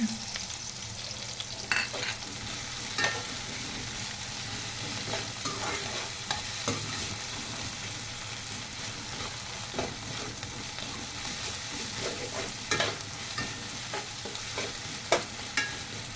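Chopped onion and grated ginger frying in a hot pan for vegetable noodles, with a steady close sizzle and repeated scraping stirs of a spatula throughout.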